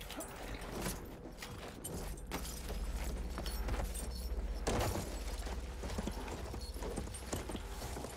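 Horse hooves galloping in the Battlefield 1 video game, rapid clip-clop beats running continuously with occasional heavier thuds and bursts of game noise, moderately loud throughout.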